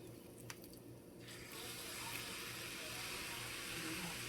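Water pouring steadily into a cooking pot while making Liberian dry rice, a broad continuous hiss that swells after a brief quiet start and runs on close and moderately loud.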